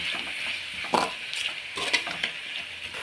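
Chopped tomatoes with ginger and garlic are sautéed in a pan. Irregular scraping strokes of a spoon or spatula sound over a soft sizzle, close and fairly quiet, with no talking.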